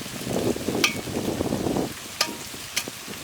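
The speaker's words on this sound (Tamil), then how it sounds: "3 நாட்டுக்கோழி முட்டை எல்லாம் நல்லா வதக்கி நல்லா கலக்கி பேஸ்ட் ஆக்கிக்கிறோம்" Country chicken eggs, lemon juice and curd stirred together into a paste in a pan, making a close wet scraping and mixing sound with a few sharp clinks of the utensil.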